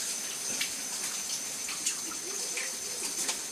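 A faucet runs steadily at low volume while hands are washed, with soft splashing and small irregular water spatters, no voices.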